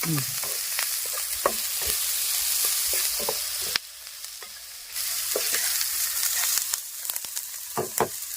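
Onions frying in a pan with a pinch of salt, a steady close sizzle broken by repeated scraping stirs, briefly dropping quieter midway before the crackle and stirring resume.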